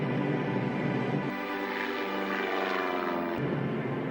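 German warplanes drone steadily overhead during the Battle of Britain, a dense, continuous engine roar that stays loud and unbroken throughout.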